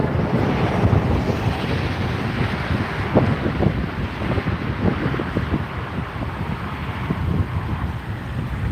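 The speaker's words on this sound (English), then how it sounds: "you can see the wind's whipping around" Strong wind whips around outdoors on Highway 14 at Silver Creek, a loud continuous buffeting roar with gusty rumble across the microphone and no speech.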